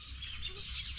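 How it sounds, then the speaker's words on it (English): Birds in the countryside chirp and twitter in a steady, dense chorus of high calls at moderate distance, with faint lower sounds beneath. "we have birds here. They are making noise."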